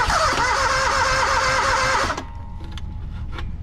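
A small rental trencher's engine cranks with a rapid whirring starter, then fires and runs. It is loud and close, with a pulsing mechanical churn for about two seconds before settling to a lower, quieter idle rumble.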